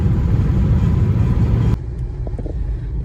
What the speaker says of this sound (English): Oh look, here comes a car.